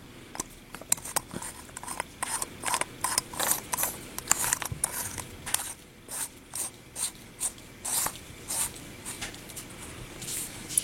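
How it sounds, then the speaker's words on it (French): A small battery cap is screwed back onto an Istick Pico vape mod, giving a run of quick clicking, ratcheting turns in regular bursts, close and fairly quiet, with no talking. "Donc vous mettez le plus, la tête en bas, et vous revissez le petit capuchon."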